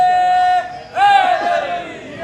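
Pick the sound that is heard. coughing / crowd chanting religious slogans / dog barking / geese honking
crowd chanting religious slogans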